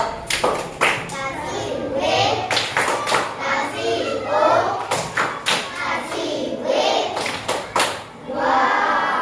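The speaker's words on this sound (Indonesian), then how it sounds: "kasih tepuk dua dulu untuk Aksara" A primary school class claps in unison to praise a pupil during a science lesson on force, giving sharp group claps in quick pairs, loud and near, with children's voices chattering between the bursts.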